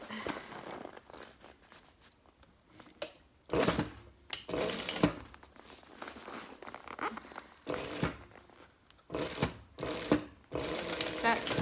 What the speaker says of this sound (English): Back stitch over that center seam.